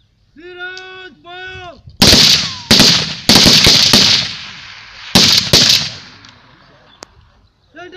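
During soldiers' training, loud gunfire rounds crack close by in quick clusters. Shouted commands and calls come just before the shots, and the echoes die away between bursts.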